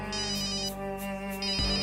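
A telephone rings with a short electronic ringtone melody, loud and close, playing alone for about two seconds before a low thump near the end.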